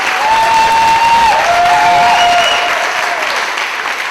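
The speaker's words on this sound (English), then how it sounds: "Please give them a round of applause so they can hear you out there" A theater audience on a film festival's opening night applauds steadily and loudly, a dense wash of clapping that holds for several seconds, with a sustained tonal whistle or feedback line running through it.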